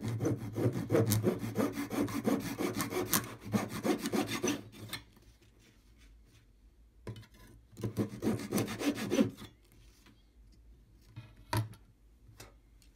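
A small hand saw cuts thin wooden model ship deck rails for an HMS Victory model in a little mitre block with a spacer, giving two bursts of quick rasping strokes separated by quiet gaps and light taps.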